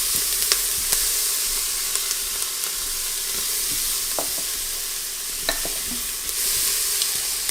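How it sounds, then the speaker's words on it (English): Chopped onions fry in melted butter inside an Instant Pot, a steady close sizzle and hiss with occasional crackles and soft stirring clicks, loud and continuous throughout. "We wanna get that butter melted and we're gonna add in those onions."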